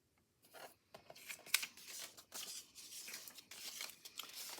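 Scissors cut and rasp through a paper craft piece being trimmed to fit an envelope, a series of close, quiet snips and paper rustles with a sharp crinkle partway through.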